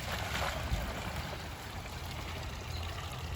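Water pours into a compost tea bucket in a yard garden, producing a steady, close splashing gush that lasts a few seconds at moderate volume without any talking.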